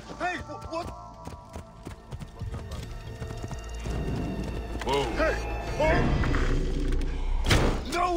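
Clip-clopping horse hooves amid Assassin's Creed Origins game sound effects and thuds, with people talking over them; the hoofbeats grow louder toward the end.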